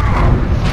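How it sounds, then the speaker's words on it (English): A plasma cannon fires in a multiplayer war video game, a loud, sustained booming blast with heavy low rumble that fills the short moment without talk. "Using a plasma cannon!"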